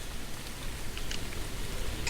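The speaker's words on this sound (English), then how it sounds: "it's raining." Rain in The Moon Sliver video game falls as a soft, steady hiss with faint scattered drop taps, continuous and fairly quiet throughout.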